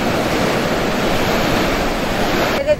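Strong sea waves crash against a collapsing rock seawall at Las Delicias, a loud continuous roar of surf and spray with wind buffeting the microphone, breaking off abruptly at the end.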